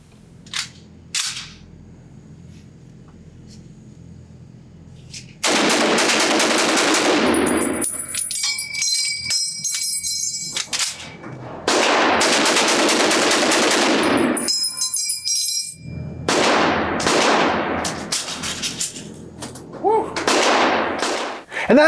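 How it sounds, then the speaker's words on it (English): A 1945 Springfield Armory M1 Garand rifle fired as fast as the trigger can be pulled at an outdoor range, a string of loud, sharp shots in uneven bursts with brief gaps between them. "let's see if I can do this fast and how well this gun shoots as fast as I can pull the trigger"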